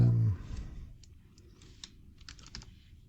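Keys on a computer keyboard clicking in short irregular bursts, quiet and close, after a brief low thump at the start, with no talking.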